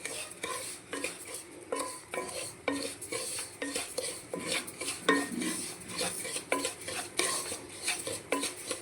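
Wheat semolina (rava) roasting in ghee in a pan, stirred with a metal spoon, gives steady scraping clinks and rustles in an irregular rhythm, close and fairly loud, with no voices.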